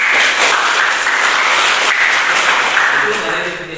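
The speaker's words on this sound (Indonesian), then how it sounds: "Oke, tepuk tangan." Classroom or lecture audience claps at a university teaching session, a loud, sustained burst of many hands that gradually thins toward the end, with some voices mixed in.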